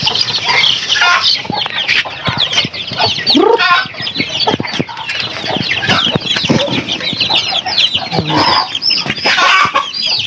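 Darag native chickens cluck and chirp constantly in a backyard flock, many birds calling at once with busy overlapping clucks and occasional louder squawks, close and fairly loud throughout.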